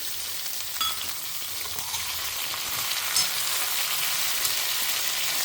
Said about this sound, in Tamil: இது கொஞ்சம் நல்லா வதங்கட்டும் இது நல்லா வதங்கின்னு இருக்கு